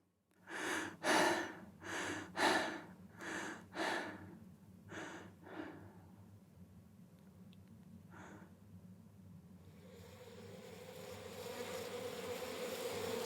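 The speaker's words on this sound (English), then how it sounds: "Oh no! The bees!" Bees buzz with a steady insect hum, overlaid by a run of rhythmic breathy gasps that fade, leaving the drone alone and slowly growing.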